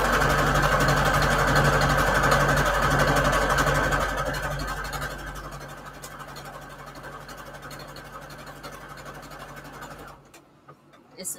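A sewing machine stitching a honeycomb stitch through fabric and an index card, with a loud, steady rapid whirring hum that slows and softens midway, then stops near the end.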